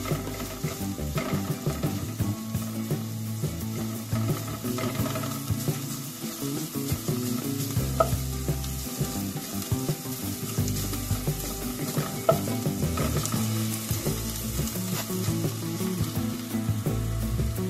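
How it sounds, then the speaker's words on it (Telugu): Ginger garlic paste sizzles and fries with softened onions in a pan for a turnip and pea curry, a steady dense crackle with occasional stirring scrapes, close and continuous throughout. "ఇందులోనే అల్లం వెల్లుల్లి పేస్ట్ వేసుకుందాం ఒక స్పూను. ఇది కూడా మగ్గబెట్టేద్దామండి"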